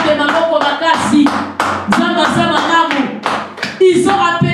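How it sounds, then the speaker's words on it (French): A church congregation bursts into applause for Jesus during a French-language sermon, a loud burst of rapid, uneven clapping close by with voices mixed in. "Acclamons pour Jésus."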